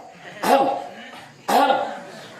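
Two separate throat clearings, each a short rough burst about a second apart, close and fairly loud with no other sound between them.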